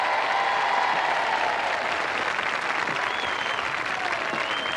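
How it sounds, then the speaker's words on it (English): A studio audience at a televised royal charity knockout tournament applauds Gary Lineker, with dense, loud, continuous clapping and a few whistles running throughout. "welcome again, a round of applause for Gary Lineker."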